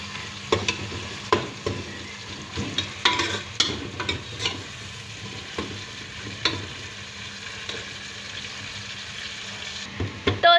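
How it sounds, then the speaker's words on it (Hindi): Sliced onions frying in a pan while a spoon stirs them toward golden, for a kaleji masala dish, giving a steady low sizzle broken by repeated scraping clinks and stirs, close and fairly quiet with no talking. "प्याज को तब तक के मिक्स करते रहना है जब तक कि ये गोल्डन कलर में ना आ जाए"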